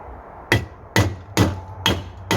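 Hammer-like taps from a flat-bladed screwdriver and chisel driving out a rear wishbone bushing on a 2004 Audi A4 B6: four sharp, evenly spaced metallic strikes, close and loud, with no talk.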